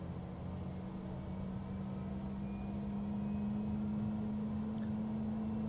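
Jet engine of a Cessna CJ4 business jet in Microsoft Flight Simulator 2020 spooling up on the ground, a steady low turbine drone with a rising tone, continuous and moderately loud with no talk.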